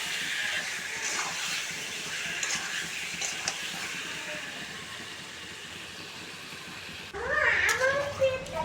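Chicken pieces sizzling loudly in a hot pan as a home curry is started, a continuous bright hiss close up with a few faint clatters, shifting to a different louder stretch near the end.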